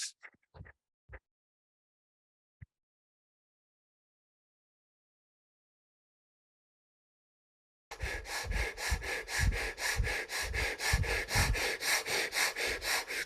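Rapid, forceful breath-of-fire breathing during a guided energy-healing meditation: after a few sniffs and a long silence, a loud, steady train of quick, rhythmic nasal exhalations runs close to the microphone.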